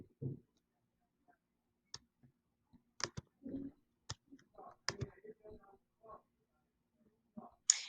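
Mouse clicks while navigating Google Classroom on a computer, a few sharp isolated clicks spaced out across otherwise quiet moments, with faint low bits of voice between them.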